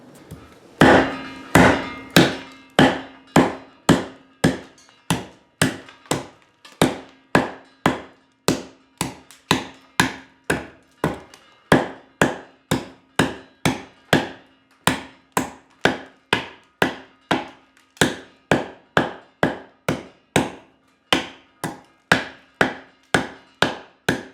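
A TOPS Tracker knife chops into seasoned walnut firewood, a long steady series of sharp, close wooden thwacks at roughly one to two per second, with no talking.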